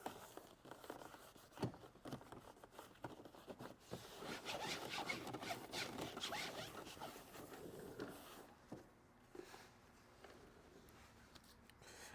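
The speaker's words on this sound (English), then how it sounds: "I'll just drag the microfiber across the surface and let it level things down a bit" Microfiber cloth dragged and rubbed across a C5 Corvette interior surface, a soft continuous scuffing and wiping texture that swells in the middle stretch and then thins out, close and moderately quiet, with no voices.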